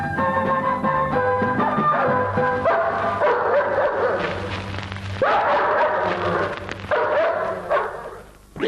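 Dog barks and yips in a Hindi radio play about puppies, aired on Vividh Bharati's Hawa Mahal, sounding close and repeated over a musical backdrop.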